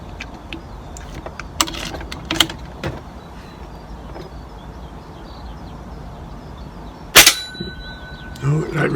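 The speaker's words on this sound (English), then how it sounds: "that ricocheted on the bell" Shots ring off a metal bell target at a shooting range: several sharp clanging impacts with brief metallic ringing, scattered irregularly, one loud strike standing out near the end, with no talking.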